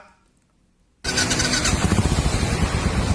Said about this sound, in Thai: ฟังเสียงเครื่องยนต์นะครับ